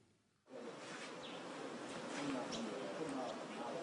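Flies swarm over farm waste, a dense, continuous buzzing that sets in abruptly after a moment of near silence and holds steady at a moderate level, close by, with no speech.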